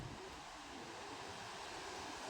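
Sea waves along the Devgad coast in Konkan make a faint, steady wash of surf, broad and rumbling, with wind noise blended in and no voices.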